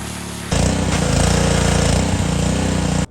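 A loud pressure washer kicks on after a brief lower rumble, its engine-driven roar and hissing spray running steadily until the very end while cleaning an engine.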